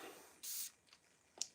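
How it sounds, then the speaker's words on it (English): Pressurized perfume atomizer from a Mancera fragrance bottle gives one sharp, close hissing spray burst lasting about a fifth of a second, followed by a faint click. "Let's get a little spray."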